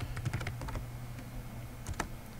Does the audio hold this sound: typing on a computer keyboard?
yes